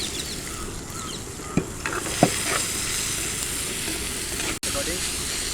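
Sliced leeks sizzle in hot coconut oil with curry leaves and salt, a steady close frying hiss with a couple of brief stirring scrapes.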